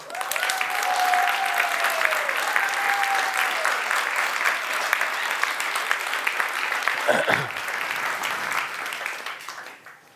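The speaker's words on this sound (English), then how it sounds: "Big applause for Nemu." Sustained audience applause for a speaker at an occulture conference, a dense, steady wash of clapping that carries on for about ten seconds before fading out, with a brief whoop or voice over the crowd.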